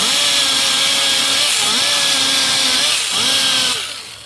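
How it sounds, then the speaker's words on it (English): A whiz wheel on a rotary tool scours the battery terminal contacts of a Snapper SR-Series mower with a 10HP Briggs and Stratton engine, a loud close whine that dips and rises in pitch as it bites, then trails off at the end. "I'm just going to start off by going around and using my whiz wheel, hitting all the, the contacts."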